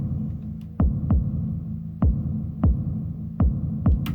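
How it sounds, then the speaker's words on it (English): Deep kick drum hits with reverb, made in FL Studio, land in an uneven pattern, each a booming thud with a downward pitch sweep and a lingering reverberant tail over a low hum. "I did reverb on this kick, too."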